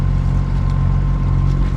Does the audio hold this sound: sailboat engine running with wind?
yes